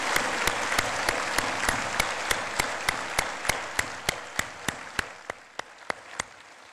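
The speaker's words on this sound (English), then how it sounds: "Let's give them a great round of applause." An audience at Norfolk's State of the City address gives a round of applause, a dense clapping wash punctuated by sharp regular claps standing out close by, fading toward the end.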